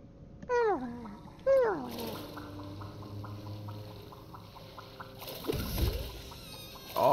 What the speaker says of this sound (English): The grubs make the best sound ever.